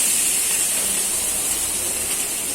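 Curry leaves dropped into hot oil with ginger-garlic paste give a loud, steady, bright sizzle that hisses throughout the short stretch without any voices.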